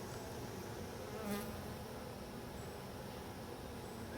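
Honey bees crawl over a comb frame full of bee bread at an open hive, making a dense, steady buzzing drone up close, with no talking.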